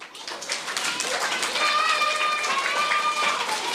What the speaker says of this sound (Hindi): K2 जवाब इसका दुरुस्त हुआ, तो इसके लिए भरपूर तालियां।